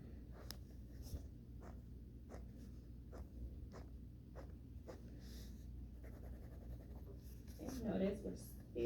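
Pen strokes scratch across paper while a teacher works a pictorial maths problem, a steady run of short, quiet scrapes and taps over a low room hum, ending with a brief louder rustle.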